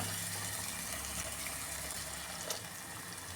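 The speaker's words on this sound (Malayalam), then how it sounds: "കുറച്ച് വെള്ളം കൂടെ ചേർത്ത് കൊടുക്കുകയാണ്." A quiet, steady wash of water being poured into a pan of sardine curry, continuous for a few seconds.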